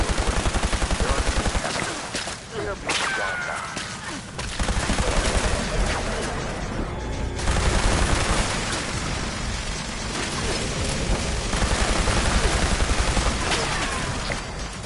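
Rapid gunfire from the video game Fallout 76, loud bursts of shots in several volleys across the clip with brief pauses between, dense and close with no talk.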